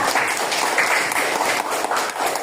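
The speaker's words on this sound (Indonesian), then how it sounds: "Tepuk tangan dulu buat semuanya" Classroom applause from a group of pupils at a school lesson, a dense steady wash of clapping filling the whole moment at even loudness, with no clear voices on top.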